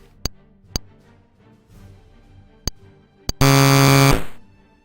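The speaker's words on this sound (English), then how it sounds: "Sorry about that buzzing noise." A loud, steady electronic buzz from a Mattel Intellivision running Dungeons & Dragons Treasure of Tarmin cuts in near the end and holds for under a second, after a few sharp clicks over quiet background hiss.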